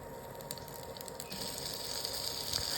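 Eggplant slices laid over curry leaves in hot oil set off a soft, close sizzle that swells after about a second and holds steady, with no talk.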